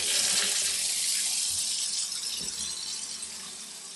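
Water from a commercial faucet running into a sink, a steady close hiss and splash that gradually softens, with no talking.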